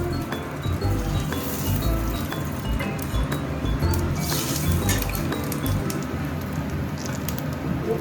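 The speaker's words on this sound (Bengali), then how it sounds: "এই তেলের মধ্যেই আমি তেজপাতা আর শুকনো লঙ্কা ফোড়ন দেব।" Bay leaves and dried red chillies dropped into hot oil in a pan for a Bengali doi ilish, giving a steady, close sizzle with small clinks of utensils throughout.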